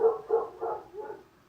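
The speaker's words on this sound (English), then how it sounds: "Ignore my dog, he's being stupid today." A pet dog barks four times in a quick, evenly spaced run, close and moderately loud, the barks fading slightly by the end with nothing else heard.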